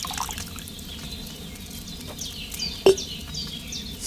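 Wine is poured from a pitcher into a cauldron in Kingdom Come: Deliverance 2, a soft steady trickle of liquid running for several seconds, with a brief sharp knock near the end.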